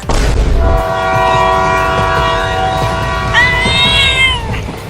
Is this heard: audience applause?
no